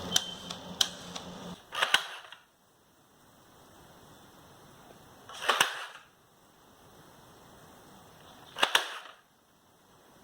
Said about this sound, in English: if I pull the trigger like this, the gun will fire